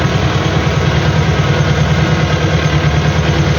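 MTZ 82.1 tractor engine running steadily on the drive home after soybean sowing, a loud, close, continuous low rumbling drone with even vibration throughout.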